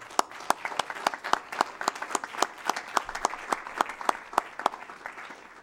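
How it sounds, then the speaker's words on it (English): An audience at a city council meeting gives a modest round of applause, a steady scattering of individual claps from a small crowd, fairly close, lasting throughout. "we'll give you a big round of applause."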